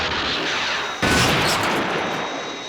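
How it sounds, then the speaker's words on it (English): A missile launch in a Thunderbirds puppet episode, a sudden loud broadband roar bursting in after a steady hiss and holding strong for the rest of the moment. "Missile away."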